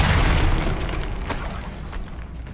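A Bombarda spell detonates in Hogwarts Legacy, a loud booming explosion that opens strongly and rumbles on with crackling debris bursts and a sharp shatter near the middle.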